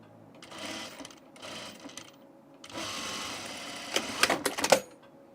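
Serger stitching the first seam of a pair of underwear, short stop-start bursts of whirring stitching that build into a longer run near the end, close and fairly quiet.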